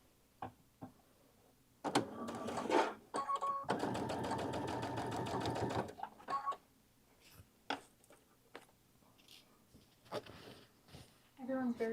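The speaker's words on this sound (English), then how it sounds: "I'm just going to start here and we're going to sew right along the" A sewing machine quilting edge-to-edge along a tote bag, with short bursts of stitching and one long sustained run of rapid needle chatter, broken by pauses and talking.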